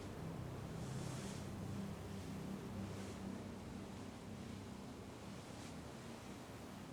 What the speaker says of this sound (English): A lot of waterfalls.